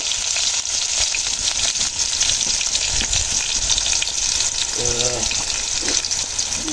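Onions frying in a pan for pineapple pasta, a loud, steady sizzle that holds throughout with occasional stirring clinks and a brief tonal scrape partway through.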